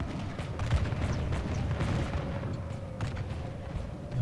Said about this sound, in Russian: Что там долбает пушка?